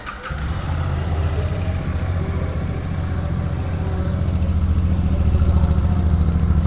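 A 2024 Royal Enfield Super Meteor 650 BS7 twin-cylinder cruiser fires up and settles into a steady, loud idle, a deep low throb that holds close and constant throughout, with no talking.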